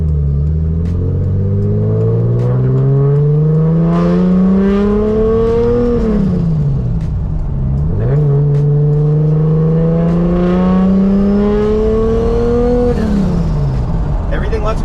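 Turbocharged Nissan R33 with an RB25 engine cruising on a street, its engine note climbing steadily through two long gear pulls with a dip and shift between them, loud and close throughout.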